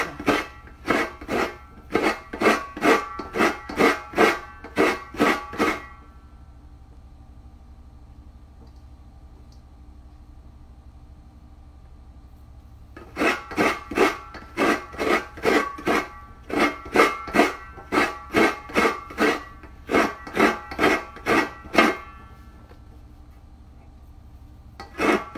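Coconut meat being shredded on a hand grater, heard as two long runs of quick, even rasping strokes with a pause of near silence between them, close and steady with no talking.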